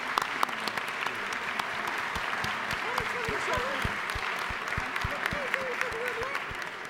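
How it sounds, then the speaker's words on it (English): A legislative chamber audience applauds guests from the National Coalition of Black Women at the state Capitol, a steady sustained round of clapping from many hands at moderate distance, with a voice speaking over it. "So please give them a round of applause."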